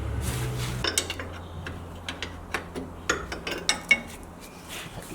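A ratchet wrench works the 17 mm rear brake caliper bolts on a Nissan Skyline R34, making a series of close metallic clicks and ticks with a few sharper clanks over a low background hum.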